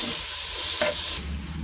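Ground meat frying in a pan for sautéed mung beans with alugbati, a steady close sizzle with stirring scrapes, briefly louder near the middle before easing back, no talk.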